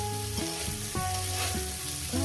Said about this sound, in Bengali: পেঁয়াজ কুচিটা কাঁচা লঙ্কা কুচিটা দিয়ে দিলাম দিয়ে এটাকে আমি আরও ভাজবো